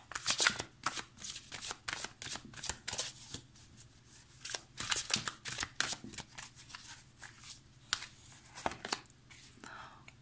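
Angel tarot cards are shuffled close up with rapid, rhythmic riffling and soft crisp card slaps, quiet and continuous for about ten seconds, with faint low hum beneath.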